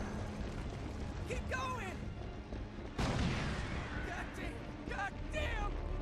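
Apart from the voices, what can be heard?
incoming rockets exploding in video game Resistance 3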